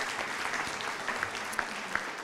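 Audience at a talk event giving a round of applause, sustained crowd clapping with a few sharper individual claps and faint cheers standing out near the end.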